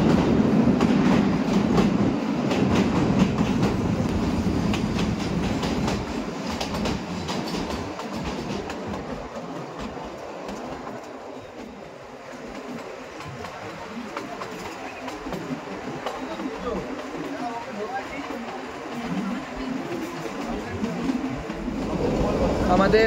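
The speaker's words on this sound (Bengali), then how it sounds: "টয় ট্রেন একটার পর একটা টানেল পার করছে" The Kalka-Shimla toy train clatters through tunnels one after another, with a loud rolling rumble and rhythmic clickety-clack that echoes and dips as it passes inside. A voice can be heard under the train noise.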